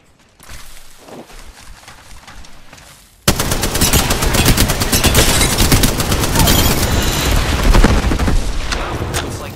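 Automatic gunfire from a firefight in Apex Legends erupts after a quieter stretch of game ambience, then continues loud and dense with rapid, sustained bursts until the end.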